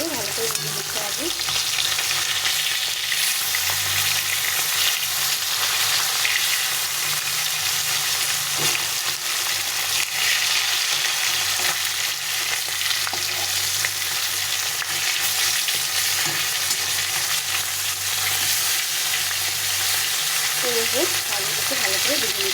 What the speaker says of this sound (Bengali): মাছগুলো উল্টে পাল্টে ভালো করে ভেজে দিতে হবে।